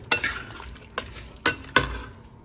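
A spoon stirring beef mechado in a metal pot, producing a handful of sharp scraping clinks against the sides over a low simmering sizzle.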